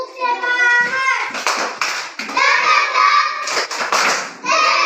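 Schoolchildren in an Indonesian primary school classroom perform a rhythmic clapping cheer, sharp hand claps in short patterns interleaved with their chanting voices, close and lively.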